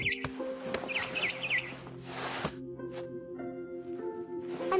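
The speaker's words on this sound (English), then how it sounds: "Then I heard chirping outside my window. It was a barn swallow going back to her nest." A barn swallow in the game What Remains of Edith Finch gives several quick, high chirps in short clusters over soft, sustained ambient game tones.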